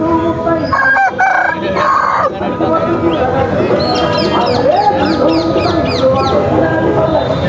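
A rooster crows loudly nearby amid other clucking country chickens at a Saturday poultry market, while people talk and haggle over the commotion.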